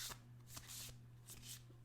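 A deck of tarot cards is shuffled gently by hand, giving soft riffling and sliding bursts in a quiet room with no talk.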